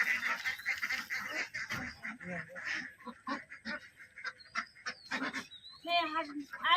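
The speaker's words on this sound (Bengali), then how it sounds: "বন্ধুরা আমাদের হাঁসগুলোকে এখন আমরা ছেড়ে দিচ্ছি" Ducks being let out of their pen call and quack in a cluster of short, nasal honks close by, with some overlapping voices and rustling in between.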